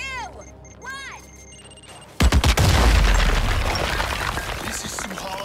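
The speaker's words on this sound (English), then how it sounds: "Watch out for the explosion!" Explosion in Suicide Squad: Kill the Justice League, a sudden loud boom after chirpy game sounds, followed by a rumbling blast and sustained crackling debris that slowly fades.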